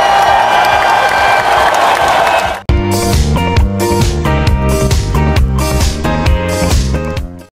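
Cheering and applause at a school celebration assembly, a loud dense crowd roar that cuts off abruptly and gives way to loud music with a steady beat.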